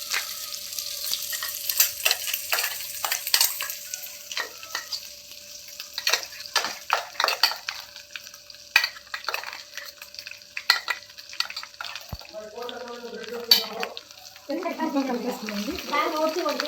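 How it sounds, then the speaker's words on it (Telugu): Nalleru stalk chutney being mixed in a pan with the stove off, a run of wet scraping and spoon clatters with soft sizzling, then a voice speaks over the stirring toward the end. "ఇప్పుడు స్టవ్ ఆఫ్ చేసేసుకుని ఇది కలిపిస్తున్నాం"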